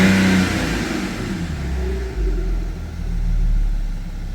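A car engine revs up from idle, rising to a deep rumbling roar, easing back, then swelling again in a second rev, close and loud with no talking.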